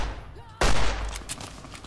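A sudden loud gunshot bursts out at an enemy in the video game Fallout: New Vegas, followed by a fading tail and a couple of softer follow-up pops, after a quiet moment with faint voice.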